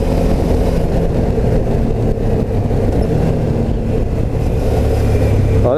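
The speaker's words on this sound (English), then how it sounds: "that was a perfect downshift, that one" A car engine revs loudly and continuously through a downshift, the pitch shifting as gears change, heard close up from inside the vehicle on a New Zealand road trip.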